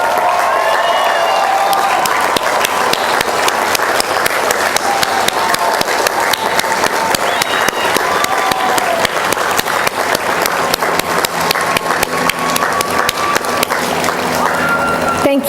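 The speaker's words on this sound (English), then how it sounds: "ask them to stand for a well-deserved round of applause from the" A commencement audience at a 2007 College of Environmental Design graduation gives a long, dense round of applause, steady and loud throughout with faint crowd murmur underneath.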